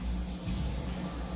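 Copper and brass vessels being scrubbed by hand in a Diwali cleaning, a soft, quiet, continuous rubbing and scouring sound with slight pulses, close up and with no talk.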